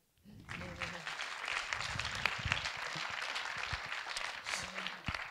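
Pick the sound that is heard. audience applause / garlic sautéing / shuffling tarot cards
audience applause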